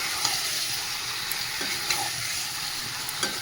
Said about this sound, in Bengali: চিকেনটাও দিয়ে দিই, দিয়ে এবারে গ্যাস কমিয়ে দিই, ভালো করে কষাই